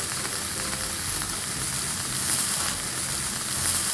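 A burger patty sizzles in a frying pan, a dense, steady crackling hiss that stays loud and constant the whole time with no talk over it.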